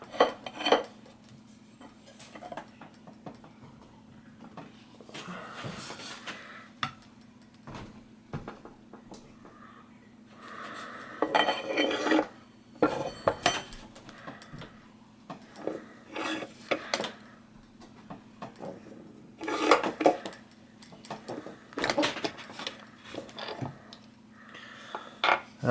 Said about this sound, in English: Press this down, and hopefully this will press the bolt out of the derailleur frame there.